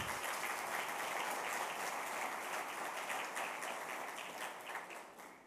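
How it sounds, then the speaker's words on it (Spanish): A church congregation claps in praise during a Mother's Day service, a dense, steady wash of many hands close and loud, thinning slightly at the end. "Dele un aplauso al Señor."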